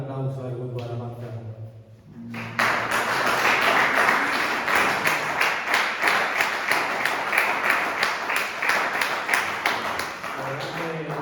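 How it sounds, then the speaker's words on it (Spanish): A church congregation breaks into sustained applause for the worship group, dense clapping that fills the room for about nine seconds after a brief stretch of speech at the start. "vamos a dar un aplauso al grupo de alabanza"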